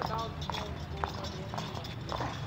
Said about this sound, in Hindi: बहुत खूबसूरत डांसर घोड़ा है।